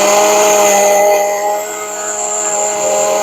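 A food processor grinds a peach dog treat mixture with a steady, loud motor whir that dips slightly midway and then holds on, with no one talking.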